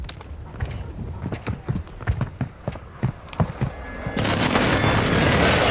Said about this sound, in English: Friendly airstrike in the AO.